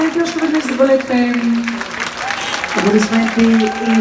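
An audience applauds ballet dancers, a loud crowd clapping mixed with a sustained sung or spoken voice and tonal music running over the top throughout.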